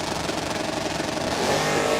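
A 1964 Chevrolet Corvette's engine roars at a drag strip during a team race, a steady loud mechanical drone that swells slightly toward the end, heard from trackside.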